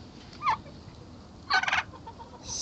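A turkey hen with her poults gobbles in short bursts, a brief call followed by a longer rattling gobble, with quieter bird sounds between.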